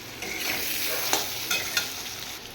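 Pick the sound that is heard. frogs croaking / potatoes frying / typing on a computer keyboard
potatoes frying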